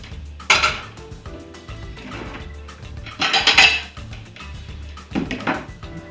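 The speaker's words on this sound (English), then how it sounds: "Now you won't need these pots and pans right now," Pots and pans are cleared off a kitchen counter, with three separate bursts of metallic clanking and clinking spaced a couple of seconds apart, close and fairly loud over a quiet room.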